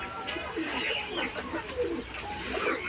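Fancy pigeons coo softly in a low, rolling murmur inside a breeding loft, several birds at once, with rustling and faint background noise throughout.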